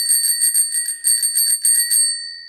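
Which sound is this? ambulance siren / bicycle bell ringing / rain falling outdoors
bicycle bell ringing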